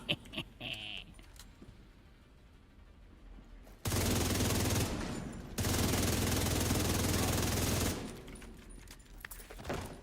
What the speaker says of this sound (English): Was that gunfire?